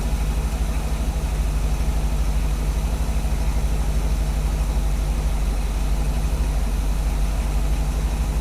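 A car engine idles steadily at about 900 rpm with a low, even rumble and a constant hum, close by and unchanging throughout.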